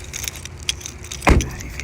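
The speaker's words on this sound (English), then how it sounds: "I forgot my car keys over here." Car keys jangle in a few quick metallic bursts, then a louder thump lands near the end, close by and without talk.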